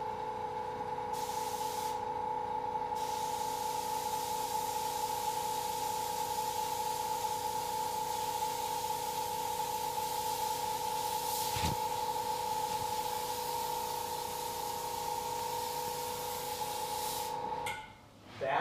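An inexpensive airbrush sprays lacquer paint in a continuous close hiss with a steady tonal whine underneath, lasting nearly twenty seconds without a break or any talk.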